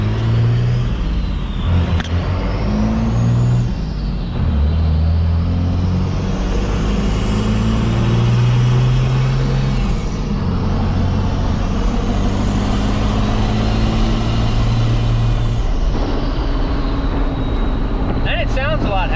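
A third-generation truck with a swapped 12-valve diesel drives along, its engine droning loud and steady as the pitch rises and drops with each gear shift, with someone talking over it.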